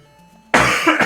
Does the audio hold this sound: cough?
yes